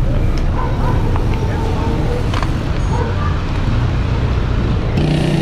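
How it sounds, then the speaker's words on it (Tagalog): Heavy road traffic in the town of Agoo, La Union, in the Philippines: a continuous close rumble of cars and motor vehicles, steady and loud throughout, with a brief higher tone near the end. "sobrang traffic"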